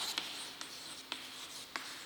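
Pen writing on a surface during an English lesson, four short faint scratching strokes spaced across a quiet background, with no voice over them.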